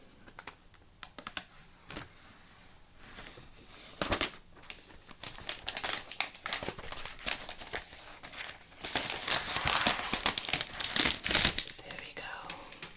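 Plastic film being peeled off an Apple iPad Pro 11-inch Space Grey box: a long run of crisp, close crinkling and crackling snaps that builds in density toward the end, with a quiet voice now and then.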